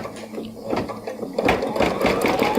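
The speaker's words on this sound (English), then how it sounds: "it's just sewing a straight stitch around there again" A sewing machine runs steadily, sewing a straight stitch around a fabric applique with a close, continuous mechanical whir.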